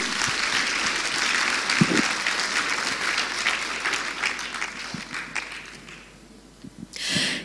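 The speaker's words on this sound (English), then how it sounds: "let us give Her Excellency the biggest round of applause" A conference audience gives a long, dense round of applause for a guest of honour at a women's business inclusion event, steady and full for about six seconds before thinning briefly and swelling again at the end.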